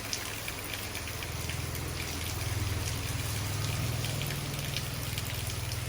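Rain falls in Maha Sarakham, Thailand, a steady, dense hiss of drops that continues without break under a low, constant rumble.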